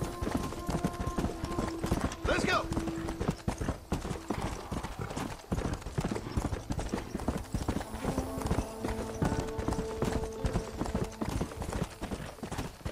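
Horse hooves clip-clop in a steady, close, rhythmic gait in the Red Dead Redemption Undead Nightmare video game, with a brief whinny and game music tones layered underneath.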